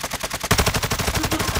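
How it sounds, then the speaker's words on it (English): Rapid bursts of automatic gunfire in the video game Call of Duty Warzone, loud and close, with dense repeated shots running steadily through the whole moment. "I'm getting shot at"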